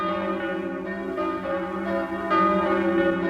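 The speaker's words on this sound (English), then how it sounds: "Bells ringing in the new year." Several church bells ring together on New Year's Eve in a sustained, overlapping peal, steady and fairly loud with no voices.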